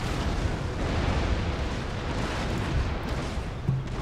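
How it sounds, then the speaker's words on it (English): A ship's cannon broadside fires in the naval battle game Empire: Total War, a dense, continuous rumble of overlapping booms with a few sharper thuds standing out, loud and sustained. "Fire broadside into this ship."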